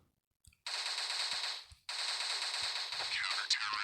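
Rapid automatic gunfire in a shooter video game, two long loud bursts of fast shots separated by a short gap.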